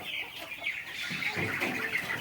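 Chickens cluck steadily on a farm raising Tiger-breed birds, a continuous busy flock sound with a hissy background and no talking.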